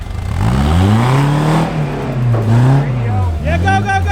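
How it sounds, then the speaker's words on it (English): Toyota truck nicknamed Old Blue, in second gear at full throttle during an off-road tandem run at a Toyota Jamboree, its engine roaring loud and close with rising and falling pitch while people shout over it. "I backed up, stuck it in second, and pinned the throttle"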